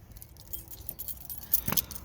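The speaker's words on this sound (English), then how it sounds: "You'll get your set of keys." A set of keys for a Forest River Alpha Wolf 27RK-L travel trailer jangles briefly and faintly, with light metallic clinks peaking near the end; no talking.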